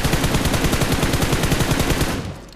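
Rapid automatic gunfire rattles in a shooting video game, with a dense, loud, evenly spaced stream of shots that fades out at the end.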